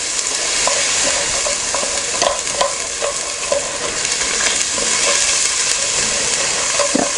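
A spoon stirs and scrapes browned bits off the bottom of a hot pan for Sunday dinner gravy, a steady close sizzle with repeated scraping strokes throughout.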